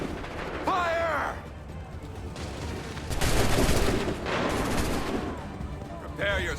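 Musket volleys crack out in Assassin's Creed 3, loud massed gunfire rolling in bursts over battlefield noise while voices shout commands in between.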